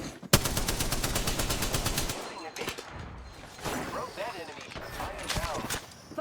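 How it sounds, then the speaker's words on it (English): Gunfire from shotguns in the battle royale game Apex Legends, with rapid repeated shots crackling for about two seconds, then scattered bursts and impacts under a player's excited talking. "what is with these shotguns?"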